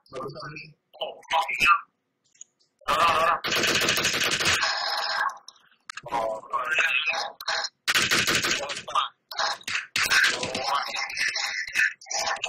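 Gunfire from the mobile battle royale game PUBG Mobile, with an M24 rifle in use, comes as loud clipped shots and bursts that start and stop sharply, while players talk excitedly over and between them.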